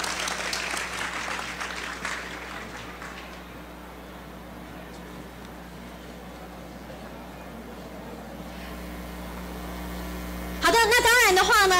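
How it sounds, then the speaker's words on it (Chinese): An audience at the Taipei education expo applauds a junior high school's robot team. Brisk clapping opens loudly, thins and fades over a few seconds, then a quiet stretch with low hum follows before music bursts in. "让我们掌声欢迎"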